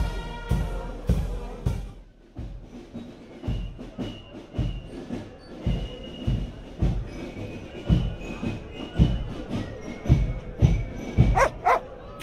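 Repeated barking from a dog guarding a passage in Paris in the Broken Sword 2.5 adventure game, with loud, rhythmic barks spaced through the scene and a few higher yelps near the end.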